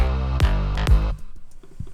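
Aggressive layered EDM bass line with a noisy, distorted backing layer, loud and upfront, two heavy hits with sweeping tails followed by a quieter choppy, stuttering bass pattern.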